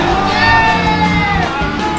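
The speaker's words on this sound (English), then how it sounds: "The crowd is going wild" Loud crowd at a Super Smash Bros tournament match cheering and yelling, with whoops and shouts rising over a dense, continuous roar.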